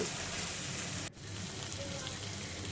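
Chicken simmering in a pan with tomato sauce for a chicken bun filling, giving a steady close sizzle and bubbling hiss that briefly dips for a moment before resuming.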